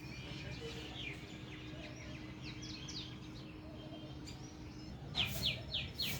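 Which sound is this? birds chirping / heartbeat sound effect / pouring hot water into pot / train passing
birds chirping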